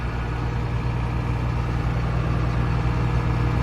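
A tractor engine runs steadily while shredding a poor cotton crop, a constant low, close drone with no breaks.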